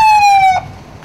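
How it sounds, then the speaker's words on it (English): An ambulance siren wails in a single loud tone that drops in pitch over about half a second, then cuts off, leaving faint background noise. "got a new ambulance"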